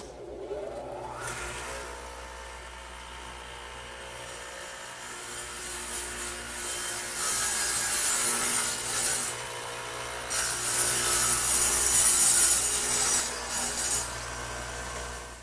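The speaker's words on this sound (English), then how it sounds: "the radial arm is set up with a dado head, which is just 2 blades at an angle to one another, so they plow out material" A radial arm saw fitted with a dado head, two blades set at an angle to each other, plows a groove through wood with a steady loud whine and grinding rasp that swells midway and stays continuous and close.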